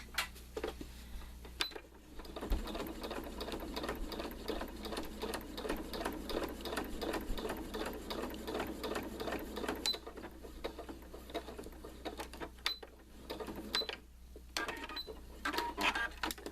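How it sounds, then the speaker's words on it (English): Sewing machine backstitching the binding of an art quilt: a steady rapid run of needle clatter for several seconds, then brief stops and short bursts of a few stitches, close and clear with no talking. "I'm going to go probably 1/2 inch beyond where I started and backstitch, maybe 3 stitches or so."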